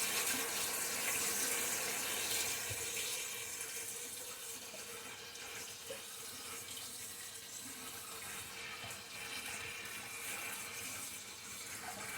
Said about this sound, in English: Let me wash my hands real quick because potato fingers.